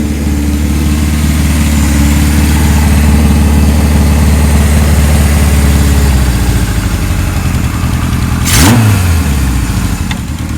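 A 1978 Kawasaki KZ1000 LTD motorcycle running close and loud, its engine note rising and dropping as it shifts through the gears, ending with a short high whine.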